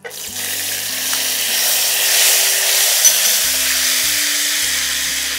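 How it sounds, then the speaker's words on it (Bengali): Turmeric water poured into hot oil with chillies in a pan while cooking hilsa: a loud, close burst of sizzling that swells into a dense, steady hiss and keeps going, with no talk. "এবার আমাকে এই হলুদ জলটা ঢেলে দিতে হবে"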